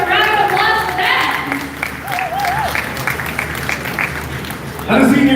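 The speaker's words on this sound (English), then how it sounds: "Give a round of applause for that." A crowd applauds loudly at a Proton X50 car launch ceremony while a voice speaks over the clapping, which fades and then swells again at the end.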